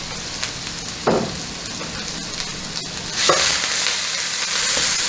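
Ginger sautéing in a hot pan for kung pao chicken, a sharp hiss as it hits the oil, then a continuous sizzle with scraping stirs and a second loud burst of frying.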